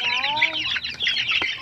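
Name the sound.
young chickens peeping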